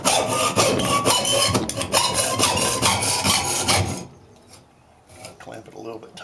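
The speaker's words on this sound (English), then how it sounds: "I'm going to cut the end off of it and see what it looks like." Metal fuel filter still holding gasoline has its end sawn off, with a harsh, continuous close-up grinding and rasping cut that stops abruptly, followed by quieter handling sounds.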